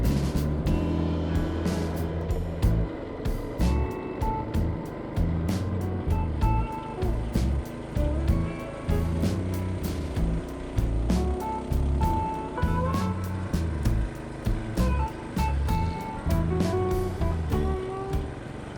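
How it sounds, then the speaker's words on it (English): Small engine of a CT200U mini bike buzzing and revving in uneven pulses while riding, with rhythmic bumps and rattles over a rough, continuous drone. "You can hear some of the engine noises"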